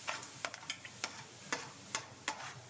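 For prawn biryani, a spoon scrapes and taps in a pan of food frying in oil, making sharp, evenly spaced clicks over a faint, quiet sizzle.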